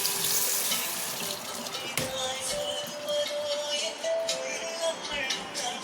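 Tap water runs steadily at a sink for washing up at the eating place, a continuous hiss with faint clinks and a brief knock partway through.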